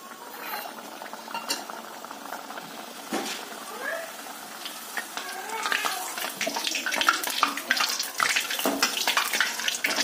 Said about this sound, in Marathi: आता आपण या तेलात तळून घेऊ